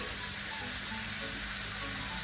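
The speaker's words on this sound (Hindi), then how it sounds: "पपीता वाला दाल प्याज को फ्राई होने देते" Chopped onion with papaya dal frying in hot oil, a dense, steady sizzle with a continuous crackling hiss that holds evenly throughout, close and loud with no voices.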